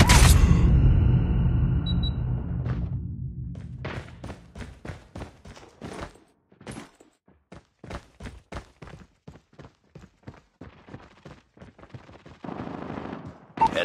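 Bursts of Call of Duty Mobile gunfire, first a long loud sustained volley, then a rapid run of sharp individual shots and short bursts with brief gaps, ending in another dense stretch of firing.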